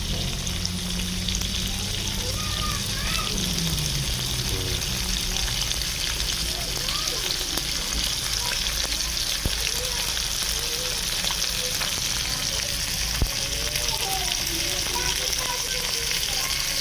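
Continuous close sizzling and crackling of pork liver stir-frying in a pan, steady and loud throughout, with a voice speaking softly underneath.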